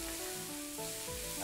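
Rice noodle rolls with pork ribs are stir-fried in a hot pan, producing a continuous close sizzle with faint tonal scraping from the spatula.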